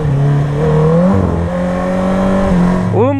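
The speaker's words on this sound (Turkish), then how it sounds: "Honda CBR650R Matsya. Akrapovic salyangoz sistem var üstünde." Honda CBR650R motorcycle with an Akrapovic exhaust being ridden, a loud steady engine drone whose pitch holds and shifts between gears, rising sharply near the end as the throttle opens.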